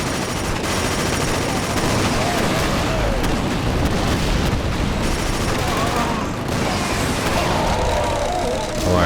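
A tank blows up in the game KillZone 2 amid loud, dense combat: continuous machine-gun fire and booming blasts fill the whole stretch, with a voice talking now and then underneath.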